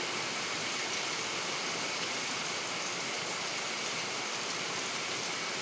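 Steady rain falling outdoors in a garden, a dense unbroken hiss of drops that stays even and close throughout, with no voices.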